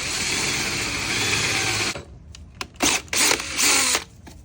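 A power drill bores into the metal swing arm of a Razor E200/E300 electric scooter, a loud, steady whine that runs for about two seconds and then cuts off, followed by several short knocks and handling noises.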